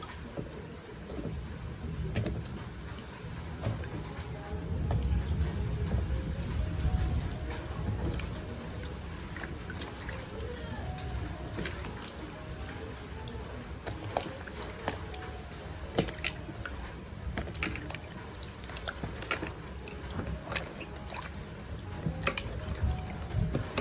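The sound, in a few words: washing raw mangoes one by one in water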